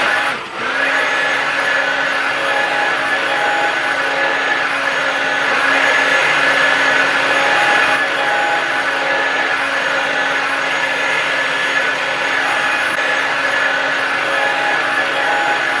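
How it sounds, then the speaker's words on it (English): Hair dryer fitted with a diffuser drying curly hair, a loud, steady whirring blow that runs continuously and close for about sixteen seconds with a constant motor whine. "I am gonna go ahead and dry it with a diffuser"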